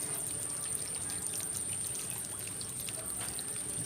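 Floodwater from Typhoon Carina leaks strongly through drainage at Tarondon, San Miguel, Bulacan, making a steady, even rush of pouring water that is faint and distant, with a thin constant whine above it.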